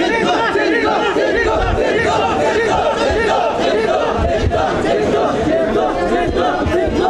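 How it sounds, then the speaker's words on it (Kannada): Supporters chant and cheer for Siddaramaiah outside his house, a dense, loud crowd roar with rhythmic shouting and overlapping voices filling the whole stretch. "ಸಾಕಷ್ಟು ಜನ ಇಲ್ಲಿ ಸಿದ್ದು ಅವರಿಗೆ ಜೈಕಾರ ಹಾಕ್ತಾ ಇದ್ದಾರೆ."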